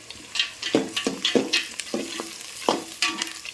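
Onions and peanuts frying in a pan, with repeated scraping stir strokes over a steady crackling sizzle, close and fairly loud.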